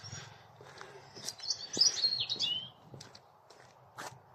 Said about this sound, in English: There's a robin up there somewhere.